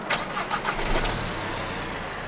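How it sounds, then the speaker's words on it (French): A car engine fuelled with diesel made from plastic cranks briefly and catches, then settles into a steady, rumbling idle up close. "Avec du plastique, notre voiture marche tout aussi bien."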